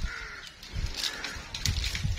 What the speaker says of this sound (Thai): เอออีกาทำเสียงได้สองเสียงแล้วเนี่ย